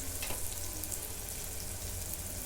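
Matki rice sizzles as it is sautéed in a hot pan with masala and turmeric, giving a dense, continuous frying crackle close by without any talk.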